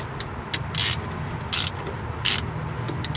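A ratchet wrench clicks in three short, loud bursts while working on the rusty fuel filler neck of a 2002 Mitsubishi Lancer, with faint ticks between them and a low background hum.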